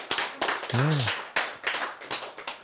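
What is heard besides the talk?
audience applause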